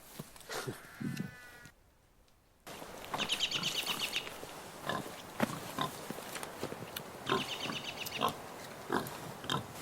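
Several pigs grunt and snort in short, irregular bursts nearby, with a brief quiet gap before the grunting resumes, some squeals mixed in.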